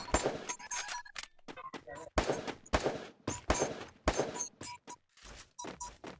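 Gunfire from the video game Free Fire crackles in sharp, irregular bursts of shots and impacts, close and loud, separated by brief gaps, with a voice faintly present.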